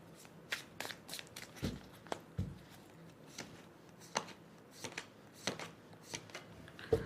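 A deck of tarot cards is shuffled during a reading: soft, irregular riffling and papery snaps, close and fairly quiet, with no talking.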